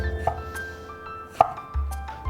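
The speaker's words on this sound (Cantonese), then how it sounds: "茄子咧浸完水之後咧，我哋仲要攞出嚟切料" A knife cuts soaked eggplant on a board in a few sharp, separate chops, close and fairly quiet.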